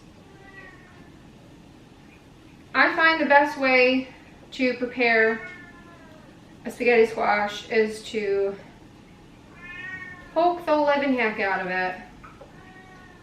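A female house cat meows repeatedly in a kitchen, several drawn-out cries in bursts, loud and close, while a person talks about preparing spaghetti squash.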